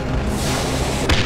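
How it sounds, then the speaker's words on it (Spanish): Heavy explosions in the video game Dying Light boom and rumble continuously at close range, with a sharp extra blast near the end. "Ah, tío, por favor, tanta explosión."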